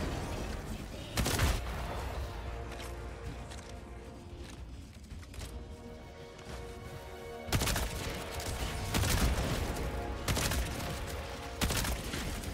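Crossbow shots in Helldivers 2 land as several sharp, punchy bursts spaced a second or more apart over a constant rumble of battle noise.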